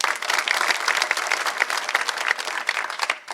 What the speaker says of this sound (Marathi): हे आमचे तरुण तिथून इथपर्यंत चालत आले यांच्यासाठी एकदा टाळ्या वाजवा